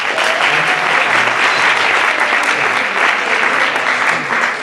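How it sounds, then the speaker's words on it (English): Audience applause at the Acid Etch 2019 charity talent show, a loud, sustained burst of clapping from a full crowd, dense and even throughout. "So everyone give a round of applause for that."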